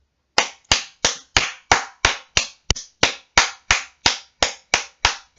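Hands clap loudly and close, about fourteen sharp claps in a steady, even rhythm with no other sound.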